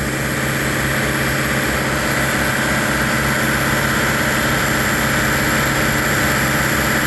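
The engine of an HP 20 grout pump runs loud and steady on its cold limiter, a continuous dense drone that stays even throughout as it idles up.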